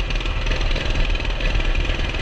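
Small Coleman CT200U mini bike engine running steadily with a newly fitted clutch, a loud, close, continuous low chugging idle with rough knocking pulses and no pauses.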